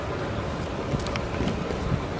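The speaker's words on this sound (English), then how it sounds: "It's really windy." Steady strong wind roars and buffets throughout in downtown Greensboro, a broad rumbling rush with slight gusty swells and no voices.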